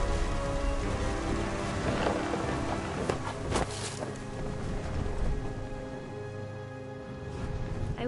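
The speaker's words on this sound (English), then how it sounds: "The thunder sounded much too close and full of angry power" Thunder in the video game What Remains of Edith Finch, with steady rain pattering throughout and a few sharp rumbling cracks breaking through in the middle, set at a seaside during a storm.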